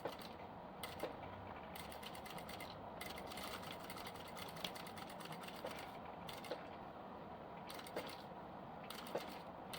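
A sewing machine stitching the seam of a fabric diaper bag, its needle running in a steady mechanical chatter that starts and stops in short runs, with small clicks between bursts, close up and without talk.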